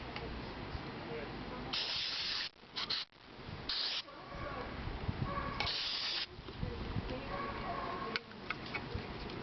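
Carburetor cleaner sprayed onto parts of a Kohler K161 7 hp engine carburetor from a Troy-Bilt tiller, heard as several short, close, hissing bursts separated by quieter handling noise in a workshop.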